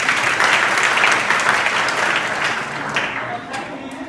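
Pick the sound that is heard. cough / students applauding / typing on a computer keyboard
students applauding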